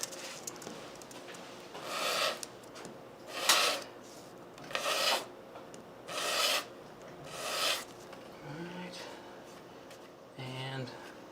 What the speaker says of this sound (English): I'm just going to go ahead and sand it real quick